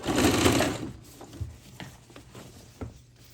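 A Singer sewing machine runs in one short, fairly loud burst of stitching, then falls to a few faint, scattered clicks and taps from the machine and fabric.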